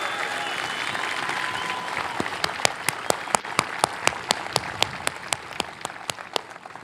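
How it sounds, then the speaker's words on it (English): An audience applauds, starting as a wash of clapping and thinning into several sharp, distinct claps toward the end. "big round of applause"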